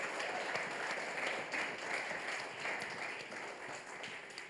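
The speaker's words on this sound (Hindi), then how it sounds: "तो जोरदार ताली कौन बजाएगा?" Applause from an audience at a live talk-show session, a dense, even wash of clapping that holds steady for several seconds, with no speech over it.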